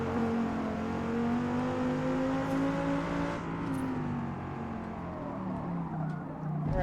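Race car engine in a video game on the Nordschleife revs and accelerates, a steady droning whine rising in pitch, dipping with a gear change, then climbing again, heard alone and close.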